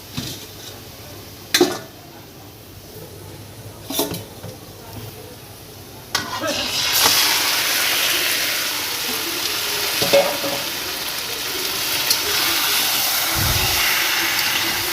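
Marinated chicken pieces dropped into a pan of darkly fried onions for a Bengali chicken curry, a steady loud sizzle with stirring and clinks of a utensil against the pot, after some quieter kitchen noises.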